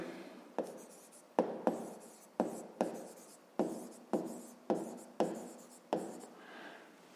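Pen or pencil strokes writing numbers by hand on paper during a fifth-grade maths exercise: a run of about ten short scratchy strokes in an uneven rhythm, close and fairly quiet, with no talking.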